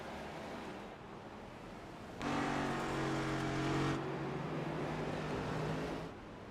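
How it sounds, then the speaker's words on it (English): A pace car accelerating hard on the Circuit of the Americas race track during a Recharge Rally Cup Series race, a loud rising engine surge in the middle over steady background noise, fading somewhat toward the end. "car now going to peel out"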